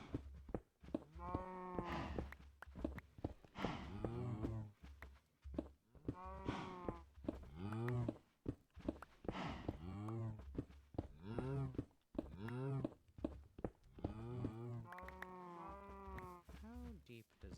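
Cows moo in a farming video game, a run of drawn-out, fairly close calls repeating at irregular intervals, each a rising and falling tonal low, with quiet gaps between them.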